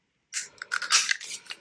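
Scissors snipping through paper for a jumbo craft ticket, a short close series of crisp cuts lasting about a second.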